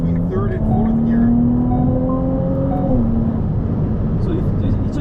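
Ferrari 296 GTB hybrid supercar accelerating through third and fourth gear, a steady loud engine drone with rising tones and a gear change, heard from inside the car with people talking over it.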